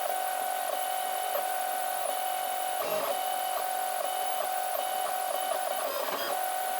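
A 3D printer prints the lid part of a filament run-out sensor box, its stepper motors whirring in a continuous steady tone with small pitch shifts and faint ticks as the head changes direction, close and constant with no talking.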